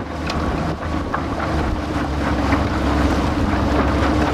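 Boston Whaler 13' Sport boat with a Tohatsu 40hp outboard motor, a steady loud engine roar mixed with heavy wind buffeting and water rushing past the hull, continuous and close throughout.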